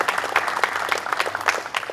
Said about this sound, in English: let's give them another round of applause for the work that they've done